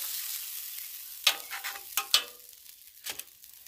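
Ground beef patty of store-bought meat on a Blackstone griddle, being flipped: a quiet background sizzle broken by a few sharp scraping, crackling bursts of the spatula and meat hitting the hot steel.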